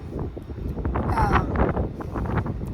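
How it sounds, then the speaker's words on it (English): Wind blowing outdoors on a winter day, a steady rough buffeting across the microphone that fills the whole stretch, loud and close, with no clear talk. "ooh, the wind"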